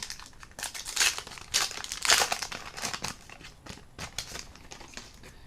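FIFA 365 2021 sticker packets are ripped open by hand, their plastic wrappers crinkling and tearing in repeated close, crisp bursts.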